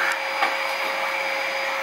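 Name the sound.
vacuum cleaner running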